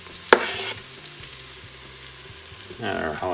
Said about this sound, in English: Then we're going to add our garlic.